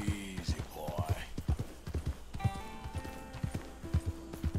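A horse gallops in Red Dead Redemption 2, its hooves beating a quick, steady rhythm of close thuds throughout, with faint creaks and jingles of tack and a voice talking quietly underneath.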